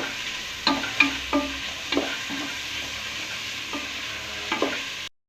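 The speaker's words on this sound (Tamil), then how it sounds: "எண்ணெயிலே நல்லா வதக்கி விடுங்க." Chopped large onions sautéing in oil in a pan for chicken gravy, a steady soft sizzle broken by several scraping stirs of a spatula, close and moderately quiet, ending abruptly.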